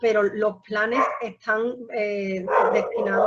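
A dog barks and yips close by in short, repeated bursts that are mixed in with a man's ongoing speech during an indoor presentation.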